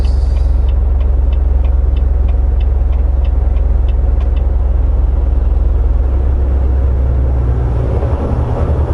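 Semi truck engine running steadily at about 1600 RPM in 7th gear at 28 mph on an automatic transmission, a loud continuous low drone with faint rhythmic ticking early on, no talk.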